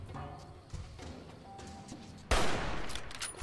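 Gunfire in Fallout New Vegas during a fight with the NCR near a caravan: a mix of shots and thuds, with a loud, dense burst about two-thirds of the way through, over a busy game background.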